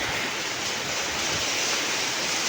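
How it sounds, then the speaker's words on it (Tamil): Heavy rain pours down in a windy village downpour onto a tin-sheet roof, a loud, unbroken hiss and roar filling the whole stretch with no voices. "சரியான மழை இப்போ"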